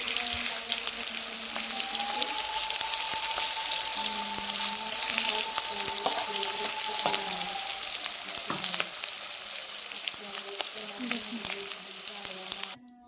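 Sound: egg frying in a pan

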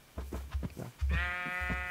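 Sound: sheep bleating in Minecraft video game

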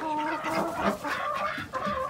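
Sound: chickens clucking in a coop

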